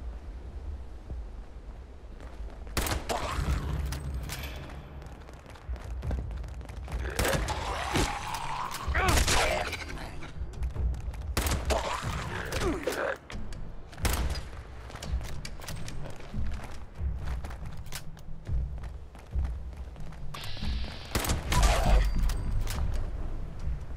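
Weapon fire sounds in the video game Fallout 76, rapid loud bursts of shots with mechanical clanks, thuds and footsteps, broken by short pauses.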